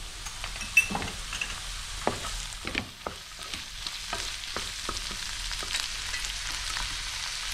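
Ginger garlic paste fries in hot oil in a pan, giving a steady close sizzle throughout. A few soft stirring scrapes and taps sit on top of it, and no one speaks.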